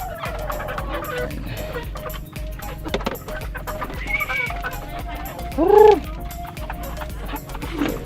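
Chicken calls ring out over a noisy outdoor background, with a louder crowing burst near the end and scattered clucks throughout.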